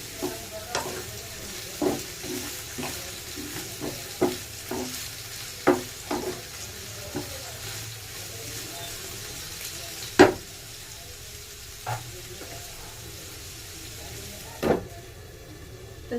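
Potatoes frying and being stirred in a pan, a steady low sizzle broken by repeated scraping clicks of the spoon, irregular and close, with no voices.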